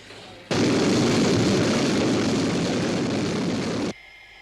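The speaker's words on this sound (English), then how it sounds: "Sky One airborne, sir. Going for intercept." Sky One interceptor aircraft takes off with a sudden loud, roaring blast of jet thrust that holds steady for a few seconds and then cuts off sharply.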